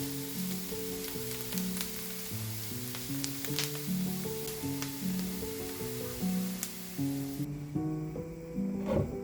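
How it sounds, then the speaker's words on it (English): Button mushrooms sauté with onions and garlic in a pan, giving a steady, moderate sizzle that continues throughout beneath melodic background music. "Add mushrooms to the onions and garlic. Sauté the mushrooms until golden brown."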